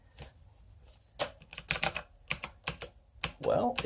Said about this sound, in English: Plain old computer keyboard.